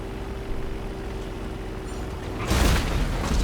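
A sudden loud synthetic boom bursts in partway through, cutting across a steady hum of GTA game background noise.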